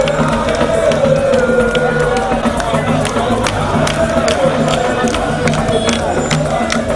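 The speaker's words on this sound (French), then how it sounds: "les Kinois venus en grand nombre pour applaudir de deux mains" A large outdoor crowd in Kinshasa cheers and claps at the launch of a city road-repair project, a dense, loud, sustained roar with scattered sharp handclaps and shouts throughout.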